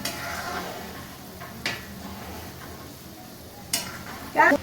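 Rasgulla sweets cook in a pan of syrup with a soft, steady bubbling hiss. Occasional scrapes and clinks of a utensil against the pan break through.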